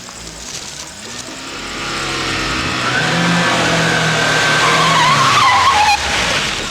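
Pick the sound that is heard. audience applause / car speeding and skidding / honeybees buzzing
car speeding and skidding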